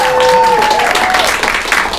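Loud, dense audience clapping at an improv class comedy show, a close continuous wash of hands with a voice speaking over it at the start.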